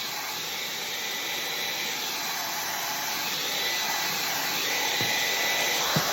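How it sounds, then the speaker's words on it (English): A handheld hair dryer blows steadily at close range, a constant airy hiss with no talk and a brief knock near the end, used while assembling an extra large box of chocolates as a gift. "we're going to do trusty hair dryer"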